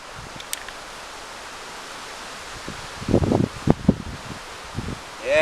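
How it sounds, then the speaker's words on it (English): Steady outdoor wind noise from a picking-up breeze at a rifle shooting range, a constant broadband rush with some rustling and low buffeting bumps partway through. "Yeah, the breeze is picking up. I know that might make it windy for you guys"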